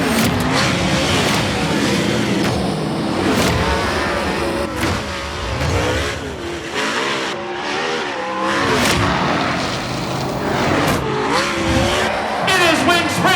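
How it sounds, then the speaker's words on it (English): A winged sprint car at a Saturday night fair race roars with a loud, continuous engine note, revving up and down in surging waves with tire noise, filling the whole stretch without speech. "Start your engine!"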